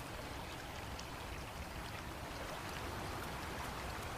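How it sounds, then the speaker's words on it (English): River water rushing past in the wild, a steady, even broadband wash of flowing water heard alone at moderate level. "A river blocks their path."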